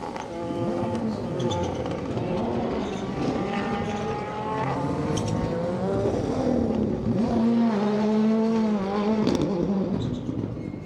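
A Ford Fiesta Rally 2 car's engine echoes from a distance at a rally stage, rising and falling through revs and gear changes over about eleven seconds beneath a steady background noise.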